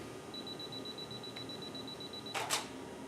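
A faint high charging whine, then a camera shutter click followed by a quick double snap of a studio strobe firing, close and brief.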